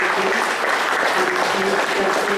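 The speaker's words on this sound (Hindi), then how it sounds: "एक बार जोरदार ताली बजा करके" Audience clapping at an International Yoga Day event, a steady moderate patter of hands throughout with a faint sustained tone and murmur underneath.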